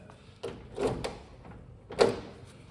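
Door of a 1970 GMC C2500 pickup truck shutting: a few dull metallic knocks, with the firmest clunk near the end, close by and with no talking.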